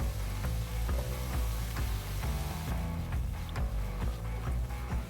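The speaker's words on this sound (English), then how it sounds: "you want to saute just a little bit, super quick, give it a good couple tosses, get everything worked together" Spam kimchi fried rice sizzles and fries in a hot pan, with a steady crackle broken by quick, regular scraping and tossing strikes as it is stirred, close and moderately loud.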